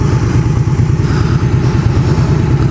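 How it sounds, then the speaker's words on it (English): A 1987 Honda Rebel 250 motorcycle engine runs close by, giving a loud, steady low-pitched putter with a fast, even pulse throughout. "I think the bike's even running better."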